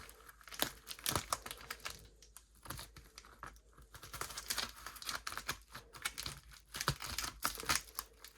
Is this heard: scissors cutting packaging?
yes